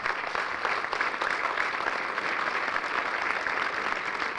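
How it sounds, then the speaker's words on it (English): An audience claps steadily at a high school college sports signing ceremony, a dense, even wash of applause that holds for several seconds without speech. "So let's give them a round of applause."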